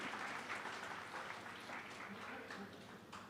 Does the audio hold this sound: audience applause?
yes